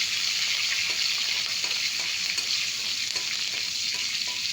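Green chillies and curry leaves frying in hot oil give a continuous bright, hissing sizzle with faint occasional stirring taps underneath, steady and close for the whole stretch.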